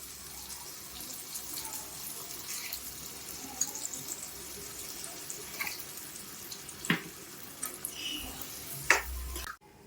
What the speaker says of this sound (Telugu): వాటర్ పోస్తున్నాను